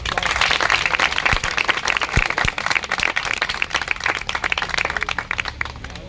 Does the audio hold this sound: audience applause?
yes